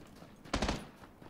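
A quick burst of gunfire in PUBG Battlegrounds, a short rattling cluster of shots lasting a fraction of a second amid quiet game ambience.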